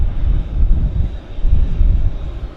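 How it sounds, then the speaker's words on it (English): An Air Canada Jazz CRJ regional jet taxis at Vancouver Airport, its engines giving a steady, broad low rumble that holds fairly loud and close throughout, with no voices over it. "So here we have a Air Canada Jazz CRJ taxiing out."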